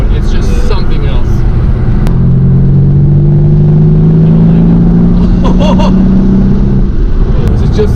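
Mercedes-AMG C 63 (2018) engine and exhaust droning at a steady, rising pitch, a sustained roar with a brief crackle, set under continuous talking throughout.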